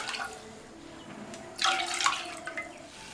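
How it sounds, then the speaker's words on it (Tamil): Water splashes into a thick-bottomed cooking pot in a couple of short pours, a bright gushing sound over quiet background noise. "அதில் 2 கப் தண்ணி சேர்த்துக்கலாம்."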